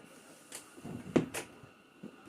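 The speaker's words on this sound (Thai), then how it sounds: "ลองทดสอบปิดประตู" A door closes against a DIY bottom seal strip fitted along its lower edge, giving a few soft, muffled knocks and bumps, with one sharper thud near the middle.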